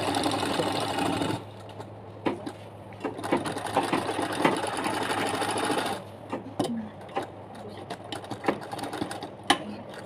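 A sewing machine stitches a zipper onto a travel bag in rapid mechanical bursts, with a continuous run at the start and then shorter clattering runs separated by pauses and clicks.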